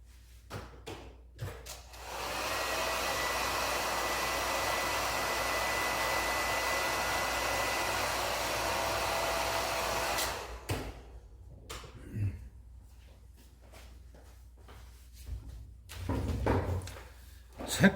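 A hair dryer runs steadily for about eight seconds, drying paint on a leather edge, with soft tapping and handling sounds of wood and a drawer before and after.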